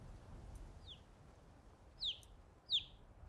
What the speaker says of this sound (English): Like the chick I can deal with.